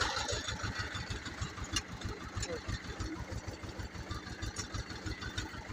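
A mini tractor's small engine chugs steadily in a low, even rhythm as it pulls away on its own in a low gear, close by and continuous with no talk over it.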